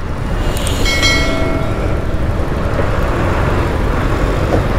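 Road traffic near Panvel heard from a motorbike, a loud steady roar of engines and wind with a brief horn blast near the start.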